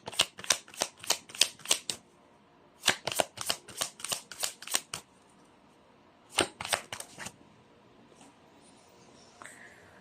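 Chinese fortune cards are shuffled in three quick bursts of crisp riffling clicks, each lasting a second or two with short pauses between, close and fairly quiet with no talking.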